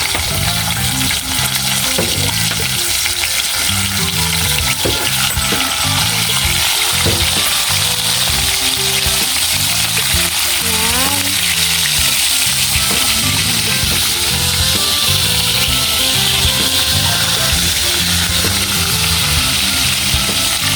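Fish frying in a pan sizzles steadily and loudly for the whole stretch, a dense crackling hiss with rhythmic bursts of stirring and scraping layered on top.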